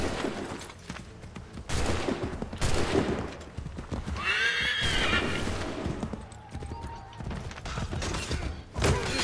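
Horse neighing in the video game Assassin's Creed III, a clear whinny rising out of a busy mix of galloping hooves and gunfire, fairly loud and close.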